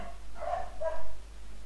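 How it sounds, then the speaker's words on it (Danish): A dog gives two short barks close by, each brief and moderately loud, with a low steady hum underneath. "Seriøst, din hund gør,"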